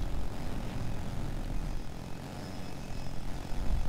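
A transport helicopter in a video game drones steadily with a dense, broadband rotor and engine roar, loud and continuous throughout with no talk.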